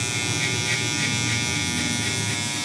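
An electric hair clipper buzzes steadily and continuously while cutting a fade, a close, even drone with no talk over it.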